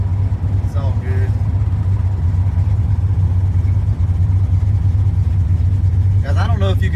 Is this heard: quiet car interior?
yes